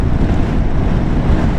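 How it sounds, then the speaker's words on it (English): Strong wind by the sea during a Royal Enfield Himalayan 450 test ride, a loud continuous low rumble of gusts buffeting the microphone, with no voices. "as you can probably hear, it's quite windy here down by the sea"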